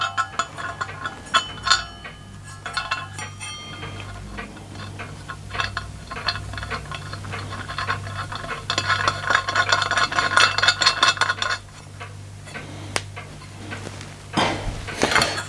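Small metal parts of a vintage Tilley lamp, model X246, being screwed back together by hand, giving faint clicks, light metallic scrapes and ticks over a steady low hum, with a brief burst of rasping contact midway.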